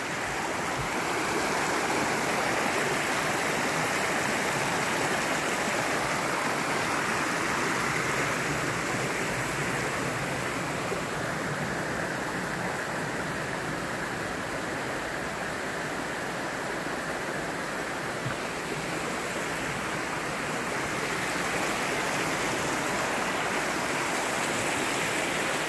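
Water at Flaming Geyser in Auburn, Washington gives a steady, loud, rushing wash that stays even throughout, with no voices.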